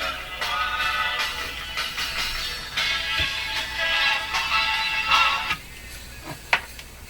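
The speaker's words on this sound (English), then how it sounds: "what you're hearing now is just the needle on the record." Soft steady hiss of a stylus riding a record groove on a Canadian Spartan Model 5542 radio's record player, with scattered faint crackles and an occasional sharper tick, quiet and close.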